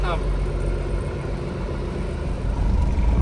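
A cab-over truck with no engine out front drives along, its engine a steady mid-pitched drone heard close from inside the cab, with a brief tonal whine at the start and people talking over it.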